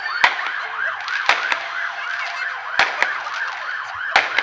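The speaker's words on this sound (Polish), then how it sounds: "Przy dźwiękach syren," A wailing siren rises and falls repeatedly at the start of a 100 km mountain ultramarathon, with several sharp loud bangs of fireworks cracking at intervals over it.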